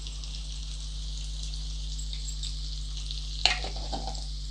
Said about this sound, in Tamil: வெங்காயம் நல்லாவே வதங்கட்டுங்க.